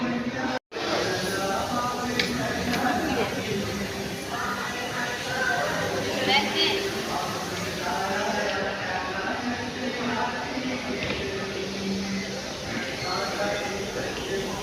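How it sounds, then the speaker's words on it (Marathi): A dense, steady babble of many voices fills a crowded railway platform, with overlapping chatter and a constant hum of activity. "प्लॅटफॉर्मला खूप गर्दी आहे"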